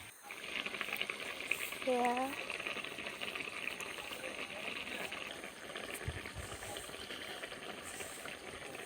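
Hot water goes into potatoes cooking in a pan, setting off a steady, fairly loud bubbling hiss that continues to the end, with a brief word spoken early on.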